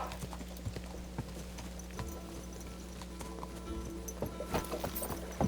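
In Kingdom Come: Deliverance II, a horse gallops with a steady, rhythmic clip-clop of hooves, close and continuous over low game ambience.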